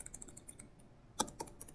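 A computer keyboard used to enter a password during a Linux install, heard as faint, close key clicks in short uneven bursts with a brief pause between them.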